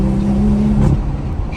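BMW M235i or M240i accelerating hard, a steady loud engine drone with a rising tone that builds and then eases off near the end, close and continuous with no talking.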